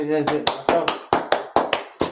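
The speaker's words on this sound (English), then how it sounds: "clap it up" An audience claps in a rhythmic series of sharp, evenly spaced hand claps, about eight beats in two seconds, following a brief stretch of voice.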